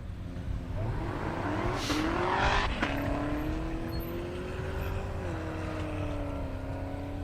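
A drag car launches on a half-mile airstrip drag race with its tires spinning and squealing, a loud engine roar climbing in pitch before settling into a sustained drone as the car pulls away.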